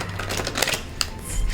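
Playing cards being shuffled by hand, a quick patter of riffles and soft flicks with small irregular clicks, close and fairly quiet, with no talking.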